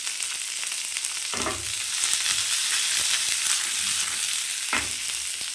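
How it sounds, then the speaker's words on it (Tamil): Steady hot-oil sizzle of fenugreek and curry leaves frying for a fish curry, a constant crackling hiss with a couple of soft stirring bumps, close by and without speech. "இது நல்லா வதக்கிடலாம்"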